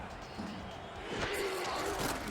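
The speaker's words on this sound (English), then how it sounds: "Crowd on their feet for this 4th down try." A football crowd stands and cheers before a fourth-down try, a dense roar that swells louder halfway through and stays high, with a commentator's voice over it.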